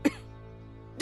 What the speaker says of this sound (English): Juba coughs again, her voice faltering,